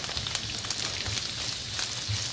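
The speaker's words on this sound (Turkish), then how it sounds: "Sıvı yağımız ısındı. Biberleri ekliyorum." Green peppers frying in hot vegetable oil in a pan for a pepper omelette, giving a steady, close crackling sizzle with small irregular pops throughout and no talking.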